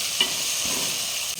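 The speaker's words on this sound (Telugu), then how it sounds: "ఇప్పుడు ఇందులో మనం చింతపండు సూప్ పోసుకుంటాం." Tamarind juice is poured into a hot roasted tomato tempering, bringing up a steady, close frying sizzle with a soft stir near the start, continuing alone without voices.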